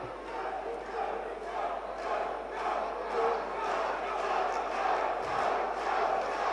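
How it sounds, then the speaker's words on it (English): A lively boxing crowd cheers and roars to urge on Joe Mullender late in a bout, a steady rumble of many voices with swelling shouts, heard under commentary. "We've got the smoker Joe Mullender fans urging him on, spurring him on"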